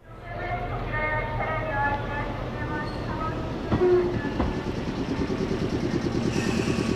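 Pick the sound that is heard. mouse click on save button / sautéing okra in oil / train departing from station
train departing from station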